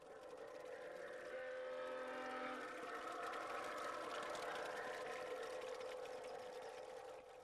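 LGB model railroad trains run on a large garden layout by the sea, giving a faint, steady rolling hum with sustained whistle-like tones near the start.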